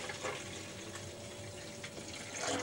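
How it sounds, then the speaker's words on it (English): Etching solution poured into a DIY etching bath makes a faint, steady liquid rush and splash that runs for a few seconds alone. "I was just about to pour the chemical in the bath."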